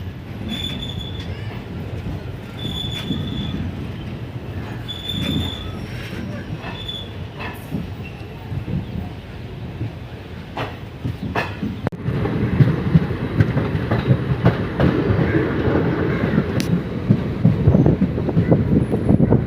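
A passenger train runs from Thiruvarur Junction toward Nannilam in Tamil Nadu, heard from on board. A steady rolling rumble carries repeated wheel squeals and occasional rail clicks, and it grows louder and rougher toward the end.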